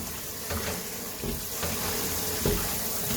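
Steady running water from a tap washing cherry tomatoes, a continuous close hiss and splash with faint knocks as the fruit shifts.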